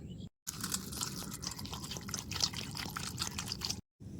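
Thin pumpkin slices being washed in water by hand, with close sloshing, dripping and trickling splashes that run on steadily between brief cuts of silence.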